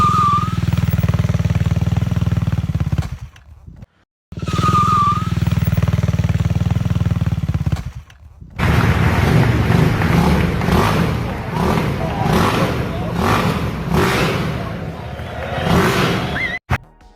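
A Ducati Superquadro Mono single-cylinder motorcycle engine revs loudly and repeatedly in high-rpm bursts, broken by brief silent gaps, with a talking voice over the first part.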